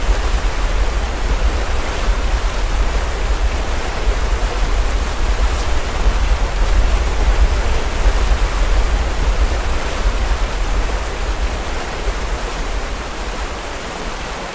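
A waterfall in the video game The First Tree gives a steady, full rushing roar of falling water that continues evenly throughout, with no voices.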